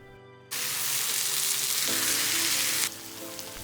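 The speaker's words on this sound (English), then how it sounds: "Stir a little and allow it to cook for a while." Prawns and chopped spring onion leaves fry in a pan, an abrupt loud hiss bursting in and sizzling steadily for a couple of seconds, with light stirring, before it drops to a quieter simmer.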